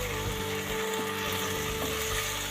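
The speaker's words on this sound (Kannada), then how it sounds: "ಇದು ಸಹ ಹಸಿ ಸ್ಮೆಲ್ ಹೋಗೋವರೆಗೂ ಫ್ರೈ ಮಾಡ್ಕೋಬೇಕು." Ginger-garlic paste fries in a pan with a steady, close sizzle and soft crackle throughout, with no voices.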